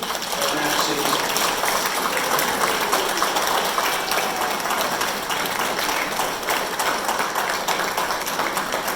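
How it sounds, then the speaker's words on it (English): An audience at a police, firefighter and sheriff awards night applauds in loud, steady, dense clapping that holds its level throughout. "Please join me in applauding incredible efforts at Matt City."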